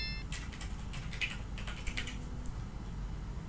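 Typing a password on a computer keyboard: a quick series of soft, close key clicks in small clusters over a low background hum, fairly quiet and with no talk.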